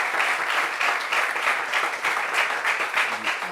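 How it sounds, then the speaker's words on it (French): A studio audience gives a sustained ovation for a guest on a French television talk show, dense steady clapping filling the whole stretch at even loudness. "On applaudit pour Kamel Trésor, s'il vous plaît."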